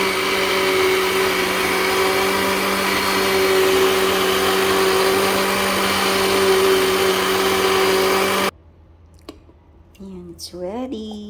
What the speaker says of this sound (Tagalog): Lagay natin sa blender.